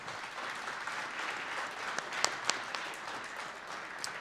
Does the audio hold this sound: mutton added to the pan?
no